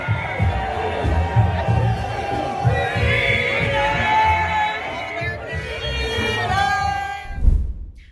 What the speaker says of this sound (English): People are chanting free Tamara Litch.